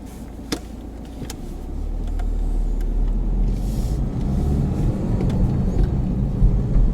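A car engine hums and rumbles steadily from inside the cabin as the vehicle drives along, with a few faint clicks and rattles.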